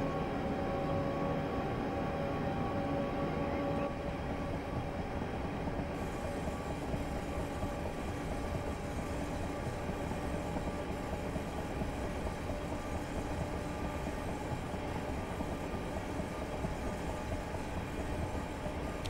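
A Class 375 electric multiple unit runs on the Chatham Main and Medway Valley line toward Strood in Train Simulator 2019, with a steady droning rumble, humming motor tones and faint rail clatter throughout, without speech.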